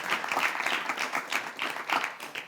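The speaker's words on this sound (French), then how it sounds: "On va donc applaudir pour chaque candidat." An audience at a competition applauds the candidates, a steady burst of dense clapping that carries evenly for the full stretch with no voices over it.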